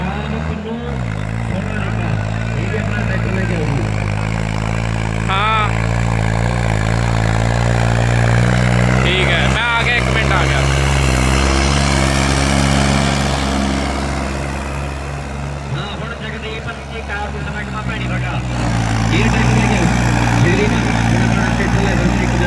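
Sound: New Holland 3630 Special Edition tractor engine running

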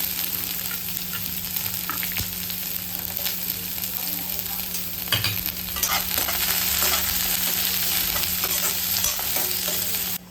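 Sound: cumin and garlic sizzling in a hot pan

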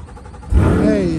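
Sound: car engine starting and exhaust

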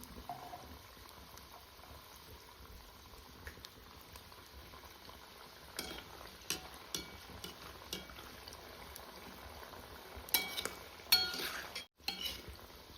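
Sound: shankarpali pastries deep-frying in hot oil on a stove

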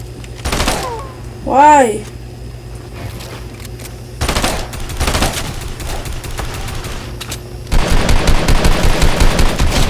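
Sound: gunfire in the video game Fortnite

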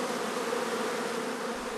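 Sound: honeybees buzzing at beekeeping hives

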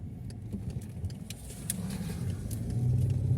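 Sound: car driving to a gas station

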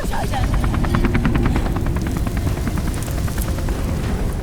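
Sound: helicopter in video game Beyond: Two Souls

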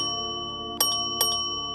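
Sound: notification bell sound effect

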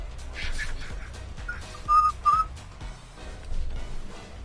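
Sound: person whistling

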